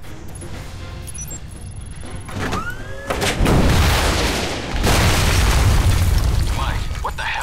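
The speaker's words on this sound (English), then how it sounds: "I fired a missile at the palace." A missile strikes a palace in the game Alpha Protocol, a rising whoosh followed by a heavy boom and a long rumbling roar of the blast that stays loud to the end, with faint electronic tones and brief voice before the impact.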